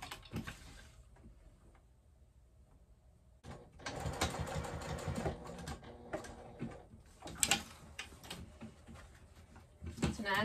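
A sewing machine stitching the lining of a tote bag runs in bursts, its rapid mechanical whir starting after a quiet stretch and continuing in uneven runs, close and moderately loud, with handling noise.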